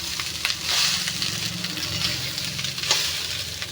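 Biryani cooks in a pan with a continuous low sizzle and frying crackle, steady throughout, with occasional sharper pops and stirring scrapes close by.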